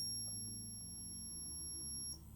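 Continuity beep from a multimeter probing a repaired trace on a dual-socket server motherboard, a steady high tone held for about two seconds before cutting off, fairly faint over low background hum.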